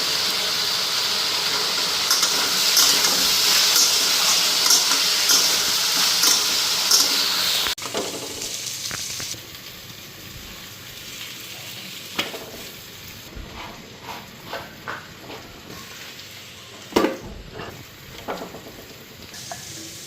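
Sliced onion sizzling and frying in hot oil in a pan, a loud steady hiss for the first several seconds that then drops off, leaving quieter stirring clinks and scrapes with a few sharp knocks.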